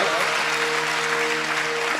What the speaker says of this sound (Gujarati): જોરદાર તાળીઓથી વધાવો સાહેબ